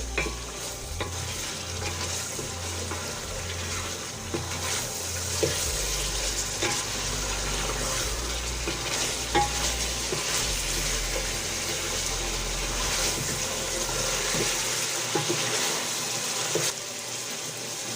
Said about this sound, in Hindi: मसाले को हम चिकन के साथ अच्छी तरह भूनेंगे, मसाले का कच्चापन निकल जाए।